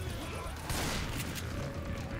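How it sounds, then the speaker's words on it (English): Video game explosions in Left 4 Dead 2 rumble as broad bursts of noise, with a louder blast near the middle, all under a busy layer of game sound. "I hear explosions."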